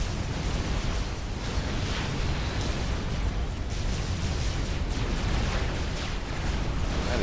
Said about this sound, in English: Lots of Ravager fire coming from over there.